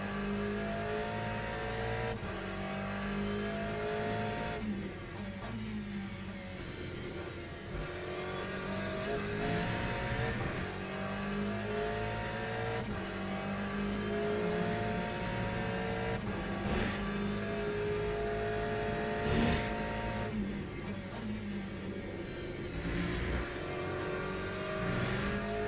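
A GTE-class race car engine in a WEC racing video game drones and revs continuously for the whole stretch, with repeated gear-change surges and throttle lifts, loud and close with no talk over it.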